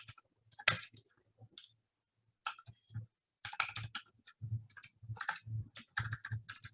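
Close, crisp bursts of computer keyboard typing while HTML code is entered, coming in irregular quick clusters separated by short pauses, with no speech.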